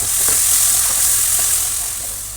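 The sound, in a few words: tomato and green chilli paste frying with garlic in pan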